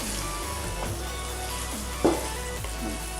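Ground tomato paste sizzles steadily as it is sautéed in hot oil for beef tikka biryani, a continuous close frying hiss with a few soft stirring scrapes.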